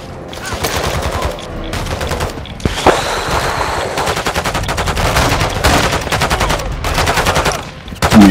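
Rapid bursts of automatic gunfire crackle through a squad-based shooter game, sustained volleys with brief gaps and one sharp loud crack, near and dense, with faint voices underneath.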